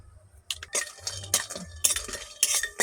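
Fried lentil dumplings (bori) being stirred in a pan, giving a run of close, irregular scraping and clinking strokes of a utensil against metal, alone with no talk.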